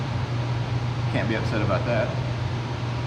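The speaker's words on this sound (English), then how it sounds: "Sorry about the fan noise" A steady whooshing fan drones with a low hum throughout, while a person speaks briefly over it.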